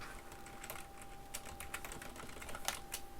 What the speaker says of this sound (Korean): 여기는 글자 타이핑이 많죠?